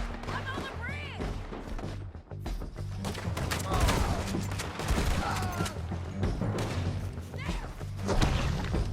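Gunfire in Red Dead Redemption 2 crackles as a loud, dense volley of shots and thuds beneath shouting game voices, with bursts overlapping throughout a chaotic firefight.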